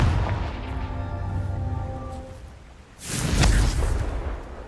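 Confringo fire spell blasts in Hogwarts Legacy: a loud booming explosion rumbles out and decays, then a second heavy blast bursts in about three seconds later, all close and without speech.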